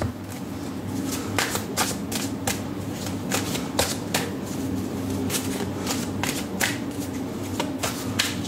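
Tarot cards from the Ethereal Visions deck are handled and drawn close up, with repeated crisp flicks and slaps of card stock over a soft shuffling rustle.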